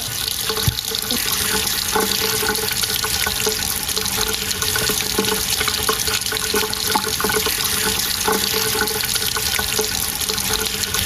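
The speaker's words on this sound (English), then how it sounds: "We run the water over the bulb." Hot tap water runs steadily over a light bulb, a continuous loud splashing rush into a sink with small clinks against the glass, heard alone without talk.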